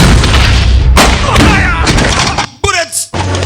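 Heavy gunshots in a Kinyarwanda-dubbed action film ring out as a few sharp, booming blasts spaced across a few seconds, cutting through a dense, busy soundtrack with a narrator's voice talking over it.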